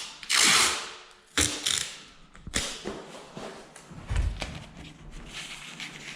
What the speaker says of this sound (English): I just put a bit of masking tape around it, and that will stop it